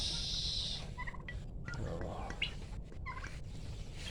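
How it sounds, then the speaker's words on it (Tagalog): A pair of turkeys on a small farm gobbles while being fed a grain-and-feed mix, giving short warbling calls amid background noise, with brief chirps and a person speaking nearby. "Ayan, mag-asawang pabo."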